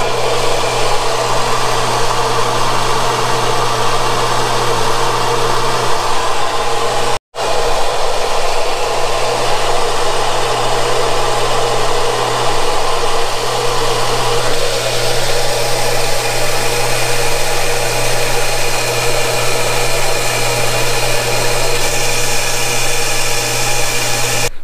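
Water rushing hard and steady through a wide-open irrigation valve on a DIY home sprinkler line fitted with a pressure gauge, a loud continuous hiss lasting the whole stretch with one brief dropout early on.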